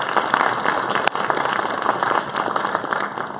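An audience of school staff applauds at a district review out-brief, a dense steady wash of many hands clapping at close range for the whole stretch, with one brief dip near the middle.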